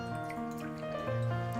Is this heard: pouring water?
yes